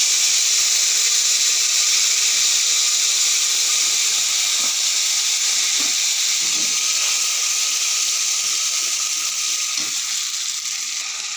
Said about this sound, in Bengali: তেল গরম হয়ে গেছে এবার আমি দিয়ে দেব জিরে তেজপাতা